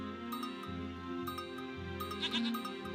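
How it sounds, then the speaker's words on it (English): Several short goat bleats ring out in quick succession over a steady tonal drone, background music in Age of Empires III. "Hey, look, we got some goats."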